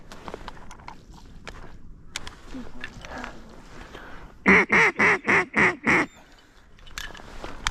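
Ducks on an Arkansas public-land duck hunt give a burst of six loud, evenly spaced quacks close by, set among scattered softer calls and wind, with hunters talking before and after.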